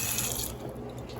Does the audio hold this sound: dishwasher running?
yes